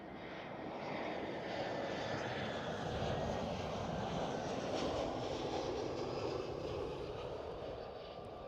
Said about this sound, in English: EasyJet's A320, EasyJet UK, British registered aircraft